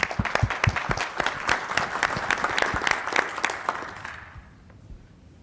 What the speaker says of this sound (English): Let's welcome our panelists with a round of applause.